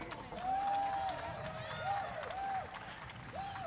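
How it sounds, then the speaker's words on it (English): Festival audience applauding and cheering after a ceili band performance, with clapping, whoops and excited voices mingling together at moderate volume. "when you are clapping for Katie, you're really clapping for all of these people"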